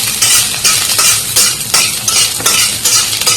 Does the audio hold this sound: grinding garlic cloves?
yes